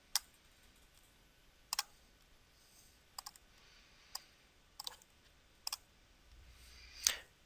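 Computer mouse clicks on a quiet desk: about eight crisp, isolated clicks, some doubled, spaced irregularly over several seconds, close and clear against near silence.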